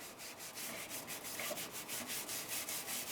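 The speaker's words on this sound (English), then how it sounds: "I'm scrubbing around my filters. And I'll just scrub the tops of the filters as well" Brush scrubbing around and across the tops of Berkey water filters, a steady rhythmic bristly rasp with repeated strokes, close and fairly loud with no talking.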